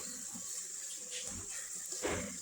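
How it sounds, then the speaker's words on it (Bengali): Water poured into a cooking pan of chicken, a steady running splash with a brief louder gush near the end, close and alone. "এখন পানি দিয়ে দেব।"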